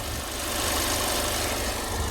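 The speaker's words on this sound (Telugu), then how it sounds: "ఇంజన్ సౌండ్ మాత్రం స్మూత్ ఉంది, ఇది కూడా చెక్ చేసుకోవచ్చు మీరు" A 2022 Hyundai Creta 1.5 diesel SX idles smoothly, a steady close engine drone with broadband hum and no speech.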